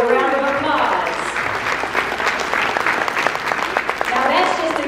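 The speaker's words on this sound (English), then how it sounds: "Give a round of applause." Audience applause at a fashion show during Charlotte Seen Fashion Week, a steady wash of clapping that runs throughout, with an emcee's voice speaking over it at the start and end.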